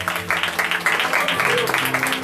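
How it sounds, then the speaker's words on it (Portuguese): Church congregation clapping during a Portuguese-language service, quick rhythmic hand claps in irregular bursts with voices mixed in underneath. "Quem crê, dá um aplauso e glorifica ao Senhor nessa noite"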